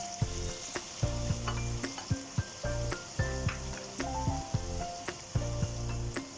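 Potatoes tipped into a pan of sizzling meat for Turkish tas kebab, with a steady frying hiss and repeated utensil scrapes and clicks through the stir, close and fairly quiet.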